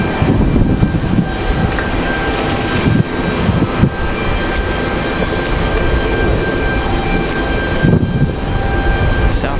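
Aircraft at Raleigh-Durham International Airport on a windy day, a steady loud roar of engines and wind rumble throughout with no talk, gusts swelling briefly.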